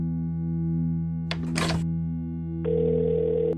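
A phone line in a video game gives a steady electronic tone, a brief burst of noise, then a louder buzzing tone, heard alone with no talk.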